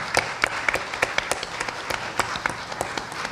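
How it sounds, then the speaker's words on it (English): Audience applause for a mridangam accompanist at a Bharatanatyam Arangetram in New Jersey: a modest, sparse round of individual claps at moderate distance, uneven and thin rather than a dense roar. "A big round of applause again for our mridangist."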